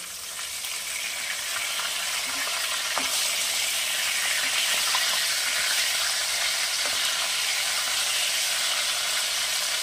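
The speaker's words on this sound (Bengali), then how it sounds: "আবার ঢাকনা চাপা দিয়ে মাছটাকে ভেজে নেব।" Boal fish pieces frying in oil in a covered kadai give a dense, even sizzle that holds steady throughout, close by, with a few faint ticks and no voices.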